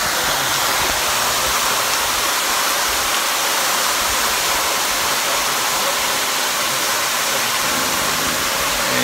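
David's waterfall and stream in Israel pour in a dense, loud, unbroken roar of falling water, heard close and steady throughout with no voices.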